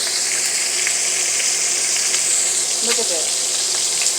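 Turkey wings sizzle and fry in a pan, a dense, loud hiss that continues steadily throughout, close by, with a brief spoken remark partway through.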